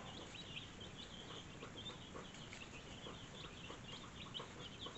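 Newly hatched Marans and Blue chicks peep steadily in a brooder, their thin high chirps overlapping in a faint continuous chorus over soft background noise.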